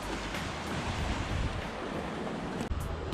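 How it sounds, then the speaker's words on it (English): Rough ocean surf and gusting wind on an open shoreline during a fishing outing, a steady loud wash of breaking waves and wind buffeting the microphone throughout, with no voices. "The wind did pick up. Waves are a little rough now"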